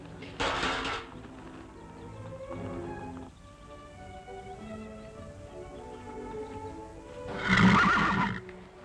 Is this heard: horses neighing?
yes